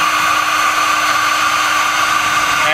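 An Alfra KFT250 beveler grinding a bevel into a steel plate edge, a loud continuous high motor whine with steady cutting noise throughout, no voices.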